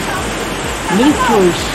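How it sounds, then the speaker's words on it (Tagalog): The waterfall at Secret Falls in Bulacan rushes as a steady, full wash of falling water, while someone speaks briefly over it. "Makikita nyo kung gaano kaganda dito sa secret falls ng Bulacan."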